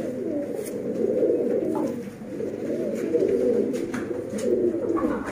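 Sialkoti blue dumma pigeons coo steadily in a low, throaty murmur, overlapping calls rolling on without pause close to the listener.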